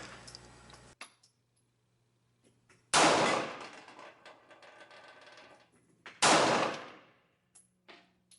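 Two sharp Radom P-64 9x18 Makarov pistol shots fired at 35 feet, loud and close, each with a brief ringing decay, spaced a few seconds apart in an otherwise quiet setting.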